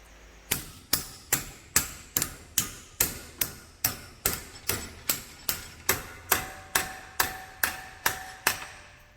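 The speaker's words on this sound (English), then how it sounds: "Grab my trusty hammer." Hammer striking metal clamped in a vise: about eighteen sharp, ringing blows at a steady, even rhythm, each one close and loud with a brief metallic decay, and no talking.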